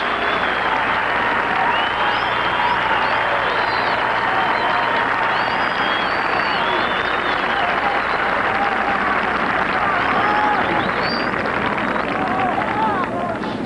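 A golf gallery at the 1986 US Open applauds the players in a steady, sustained wash of many hands clapping from a distance, with crowd murmur and a commentator's voice over it.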